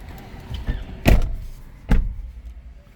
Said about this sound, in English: I'm gonna close the door.